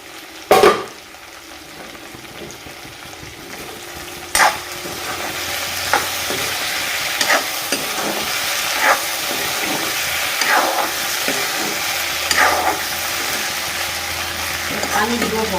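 Pieces of mud eel (kuchia) fry in a covered pan with a steady close sizzle, broken by a few sharp clatters of the lid and stirring utensil.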